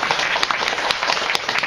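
An audience at a discussion on Nepal's draft constitution applauds the two speakers, a dense, steady patter of many hands clapping with a few sharper claps standing out.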